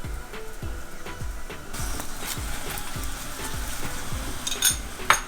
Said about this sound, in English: Now I'm going to flip it, and we're going to put some more oil on this side as well.